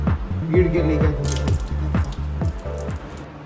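Water drips and squirts from a leaking tap seal in rapid irregular pulses, close by, with faint wet splatters between the drops.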